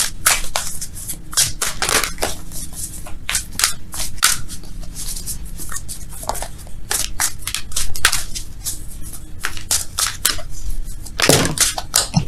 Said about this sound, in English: Let's shuffle for real, though.